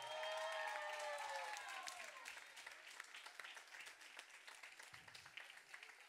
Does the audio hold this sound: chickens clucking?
no